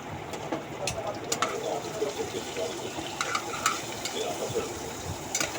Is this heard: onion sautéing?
yes